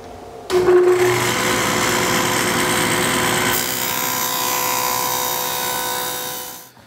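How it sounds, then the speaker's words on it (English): A saw runs steadily through a wooden panel cutting a dado for a middle shelf in a charging station, starting abruptly, holding a loud even whine for about six seconds, then stopping, with no talk. "we're just gonna go ahead and cut that dado now"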